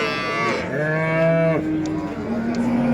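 A cow moos at a busy livestock market in Sivas, one loud nearby call with a rising then falling pitch, followed by a lower, fainter lowing over background crowd noise.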